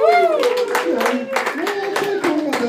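An audience in an Irish pub comedy show claps, a dense burst of applause with a voice talking over it throughout.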